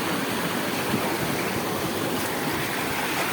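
Rushing water from a waterfall stream in Chapri Gorge, in the Surghar Range near Pakistan's Salt Range: a steady, dense, unbroken roar with no pauses.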